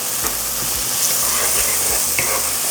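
Plenty of sliced onions sautéing in a pan of oil with already browned garlic, a steady loud sizzle and hiss with occasional faint stirring clinks and knocks underneath.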